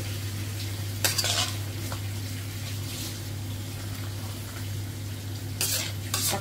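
Pork steak stirred in a pan on the stove, with sizzling frying under a steady low hum and scraping clinks of a utensil against the pan near the start and end.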